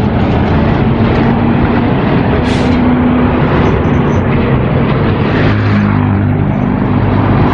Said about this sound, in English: Truck's coming in.